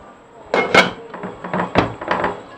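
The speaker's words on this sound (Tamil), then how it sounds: "இப்போ மூடி போட்டுக்குவோம்." A metal lid set onto a puttu steamer pot of wheat puttu in a home kitchen, giving a few close clanks and clinks over about two seconds, with no voices.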